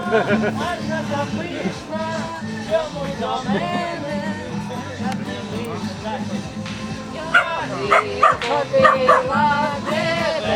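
A dog whines and yips along with loud music and singing, its high wavering cries rising above the accompaniment, growing more prominent toward the end.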